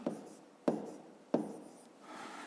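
Pen or pencil writing a number by hand on paper in a math exercise, three short scratchy stroke bursts close up, with a faint rubbing pass at the end; no talk.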